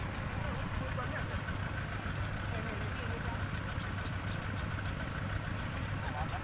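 An engine-driven water pump drains a pond so farmers can catch fish, running with a continuous, even mechanical drone and a slight knocking throb, fairly close and unbroken throughout.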